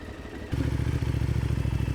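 A motorcycle engine idling and then picking up into a steady, throbbing run during U-turn practice, close and loud with a rhythmic pulse.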